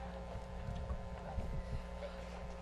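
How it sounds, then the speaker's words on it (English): Low, blustery wind rumbles against the microphone in uneven gusts during an outdoor university commencement name reading, with a steady faint hum beneath and no clear talking. "It's a little windy up here."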